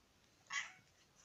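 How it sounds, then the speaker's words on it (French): A pet cat gives a single soft, short meow, quiet and close, with faint room hush around it and no talk. "écoutez là comment qu'elle miaule, c'est tout mignon"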